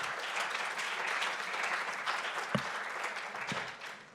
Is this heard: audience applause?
yes